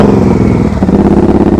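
Motorcycle engine revving on the throttle in short bursts during slow-speed riding practice, loud and close, a steady mid-pitched drone with a rhythmic pulsing throb.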